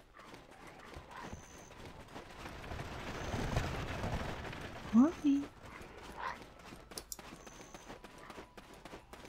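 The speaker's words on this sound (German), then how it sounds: "schätze, dafür trainiert jemand sein Pferdchen." Horse hooves clip-clop in the online game Black Desert Online, a short run of muffled steps heard faintly behind game ambience, with a voice speaking briefly over it.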